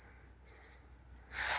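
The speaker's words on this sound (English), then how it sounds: "Look at that bird." Wild bird chirping outdoors, a few thin high chirps at a distance over faint background noise, ending in a short burst of rustling.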